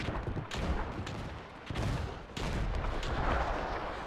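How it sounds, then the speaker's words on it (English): Gas artillery firing in the First World War video game Between Empires, heavy booming blasts with rumbling, noisy aftermath, two sharp onsets separating sustained roaring barrage sounds, loud and close with no voices. "in response to that, I'm gonna gas them. Fire the gas."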